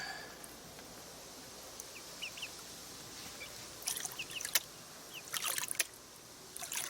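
Water sloshes and swirls in a gold pan during backyard prospecting in Michigan, with soft irregular splashes growing louder in the second half over a faint outdoor background.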